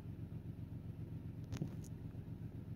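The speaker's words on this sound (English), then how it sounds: "That's the garbage truck outside." Garbage truck outside idling with a low, steady rumble heard faintly from indoors, with a brief clank partway through.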